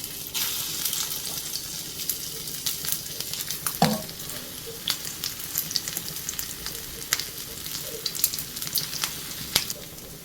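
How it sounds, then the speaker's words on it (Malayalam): Okra (ladies finger) deep-fries in hot oil for a crispy stir-fry, giving a steady close sizzle with occasional stirring scrapes and small pops. "അതും കൂടെ ഇട്ട് വറുത്ത് കോരിയെടുക്കാം."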